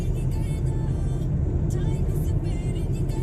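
Hyundai i20 Sportz petrol car cruising steadily at about 40 to 45 km/h on a highway, a constant close cabin rumble of engine and road noise without any clear revving.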